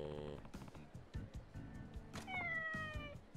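A cat meows several times, its rising, drawn-out calls clear against low rumbling noise, with a voice murmuring faintly at the start.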